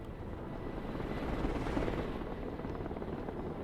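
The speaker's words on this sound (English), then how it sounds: "The other chopper has dropped off its supplies." A military helicopter in the strategy game Broken Arrow, flying a Russian air-mobility supply run, gives a steady, dense rotor-and-engine roar that swells slightly mid-pass and stays continuous throughout.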